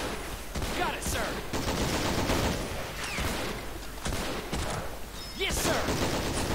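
Battlefield gunfire in Men of War: Assault Squad during the American Battle of the Bulge campaign: dense, continuous crackling volleys and sharp shots at moderate loudness, with soldiers' voices calling out over the fighting.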